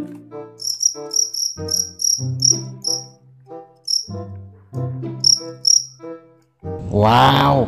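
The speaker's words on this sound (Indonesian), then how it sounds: "kita menemukan jangkrik lagi teman-teman" Cricket chirping heard close and clear: bursts of shrill, high trills repeat in an uneven rhythm over a series of tonal calls, ending in a louder rising buzz.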